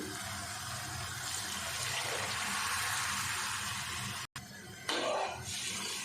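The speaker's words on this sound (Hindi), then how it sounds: "अब इसमें डाल देते हैं पानी।" Water pours steadily into a cooking pot for chana dal pulao, a broad continuous rush with a brief break before the stream resumes close by.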